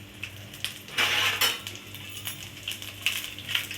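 A ladle stirs lentils and garlic in a metal pan, scraping and clinking against the sides in irregular bursts, close and fairly quiet.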